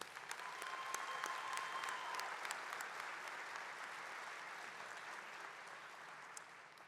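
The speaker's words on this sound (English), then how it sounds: "A round of applause for" Applause at a university fall commencement ceremony, a steady wash of many hands clapping in a large hall, distant and soft, continuing evenly throughout.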